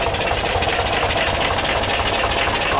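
The air-cooled engine of a 1977 VW T2 camper van idles after a cold start, a loud, steady, close chugging rumble with an even rhythm throughout, no voices.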